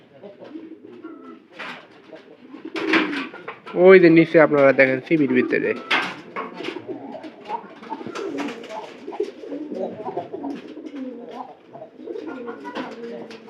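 Pigeons coo in a loft in low, throaty, rolling calls. One close bird grows loud midway, while someone talks over the cooing throughout.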